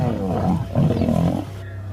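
Deep, snarling roars from young lions mauling an old lion in a brutal territorial fight, loud and close, surging in two harsh overlapping bursts before fading to a low rumble.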